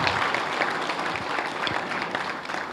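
An audience claps for a Telugu stage play performer, a steady dense wash of many hands applauding throughout without any breaks.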